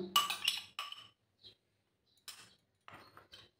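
A spoon mixes yogurt in a bowl, producing a few sharp, close clinks in irregular clusters with short silent gaps between them.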